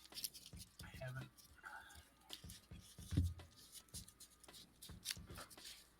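Quiet riffling of playing cards being shuffled at a tabletop card game session, soft repeated flutters and taps close by, with low murmured talk around them.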